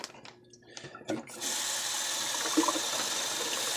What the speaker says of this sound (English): fill it about a quarter way with hot water